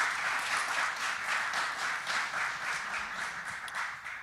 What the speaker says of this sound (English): if we could have one more round of applause for our panelists